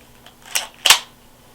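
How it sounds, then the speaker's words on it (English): Slide of an airsoft Beretta 92F (first-generation) pistol racked back, two sharp close mechanical clacks about a third of a second apart, alone in quiet. "So now I can cock the gun back,"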